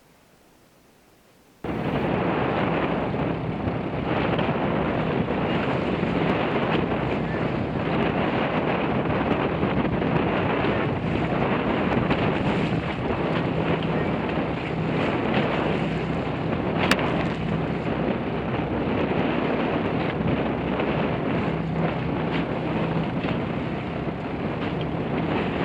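Strong wind buffets a sailboat in rough water in the Thousand Islands, a dense steady roar of gusts and wave wash that starts abruptly and holds loud and constant for the whole stretch.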